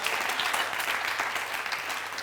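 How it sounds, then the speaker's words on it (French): Warm, sustained applause from an audience at Le Grand Café welcoming a guest, full and even clapping from many hands throughout with no breaks. "Applaudissements pour lui."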